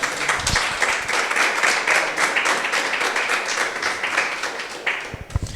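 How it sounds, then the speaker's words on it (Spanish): Congregation applauding Jesus at a Spanish-language church service: a dense, steady wash of many hands clapping, loud and sustained, with a few sharper nearby claps near the start and end. "Dale un fuerte aplauso a Jesús"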